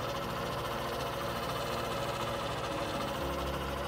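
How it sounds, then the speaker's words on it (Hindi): A Hero Super Splendor Xtec 125 cc motorcycle from 2024 idles steadily, its engine putting out a constant close mechanical drone with a slight shift in tone near the end. "आइडियल कंडीशन पर आप इस बाइक के इंजन का साउंड सुनिए"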